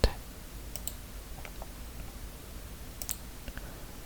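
Computer mouse clicks sound while working in Praat software: a handful of sharp, isolated clicks, some in quick pairs, close but soft over a faint background hiss.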